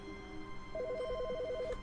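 Telephone ringing in The Stanley Parable, a rapid trilling electronic ring lasting about a second after a low steady hum, heard alone and moderately loud.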